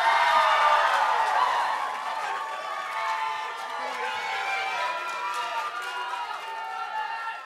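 Student debate audience cheering and whooping in a hall, a loud sustained crowd roar that slowly eases but stays dense throughout.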